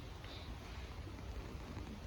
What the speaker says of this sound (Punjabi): ਬਾਰਿਸ਼ ਜੁੜ ਪਈ ਆ